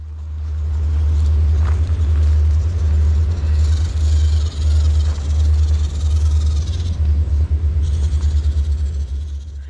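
An RC crawler on INJORA 1.3 tires drives along a sandy trail with a constant low motor rumble, close and loud, while sand and grit rustle and crunch unevenly throughout.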